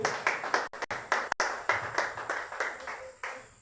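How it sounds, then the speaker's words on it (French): A church congregation claps in steady rhythmic unison, loud and close, with about two claps per second throughout and no voices over it. "tu peux acclamer pour la parole de Dieu."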